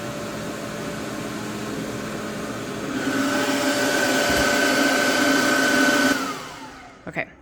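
Cooling fans of a wood-processing machine, likely a CNC or laser, whirring steadily after a job finishes, a sustained broadband hum with a tonal whine that stops abruptly, followed by a couple of faint clicks; no talking.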